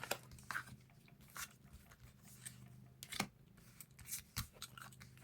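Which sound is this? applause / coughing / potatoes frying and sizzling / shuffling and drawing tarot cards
shuffling and drawing tarot cards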